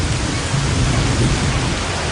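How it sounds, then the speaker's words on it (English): Heavy rain pours steadily on a shipyard building a large container vessel, a dense, loud, continuous hiss with low rumbling underneath and no pauses, with no voices. "So today, as you can see, we have a heavy rain."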